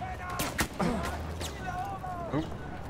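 Gunfire in the World War I shooter Battlefield 1, scattered distant shots and impacts mixed with battlefield noise, with game voices talking over it.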